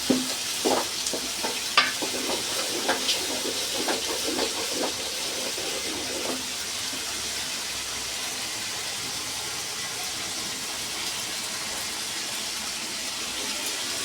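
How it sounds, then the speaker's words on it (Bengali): Rice being stir-fried in a pan for prawn pulao, a constant hissing sizzle with scraping spatula strokes in the first half, then an even, steady fry continuing alone. "চালটাকে ভালোভাবে নেড়ে ছেড়ে ভেজে নেওয়া হবে"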